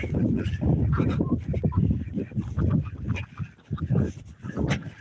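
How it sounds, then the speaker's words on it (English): Ducks quacking and honking outdoors, a busy overlapping chorus of close, loud calls with no speech. "So we get the ducks to come out here too."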